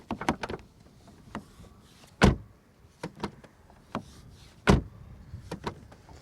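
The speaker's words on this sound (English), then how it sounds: "to check the door sound." An Alfa Romeo Stelvio's door is shut twice, each closing a solid, close thump, with softer clicks and handle taps between them and no talking.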